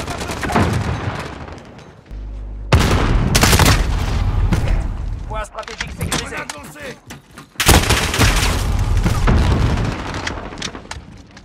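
A grenade blows up amid gunfire in Call of Duty: Modern Warfare, with heavy booms and bursts of rapid shots coming in loud waves, rumbling between them, with brief muffled voices under the fighting.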